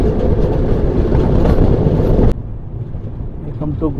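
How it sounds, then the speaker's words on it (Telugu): At Guntur junction, a train rumbles loudly and continuously nearby with a heavy rolling roar that drops off suddenly partway through, leaving quieter background noise and a brief voice. "అటుపక్క నుంచి చూడండి, ఏదో ట్రైన్ వస్తుంది."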